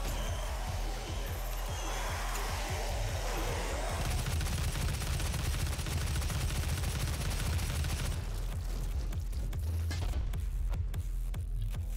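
Micro missiles firing in the DOOM video game, heard as a continuous loud barrage of rapid bursts and crackling blasts filling the whole stretch, with dense layered game noise throughout.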